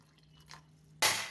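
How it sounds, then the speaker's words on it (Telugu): Water is poured into a cooking pot for muddapappu and pumpkin pulusu: a faint drip at first, then a sudden close splash of running water in the last moments, with no talk. "కొంచెం నీళ్లు పోస్తాను"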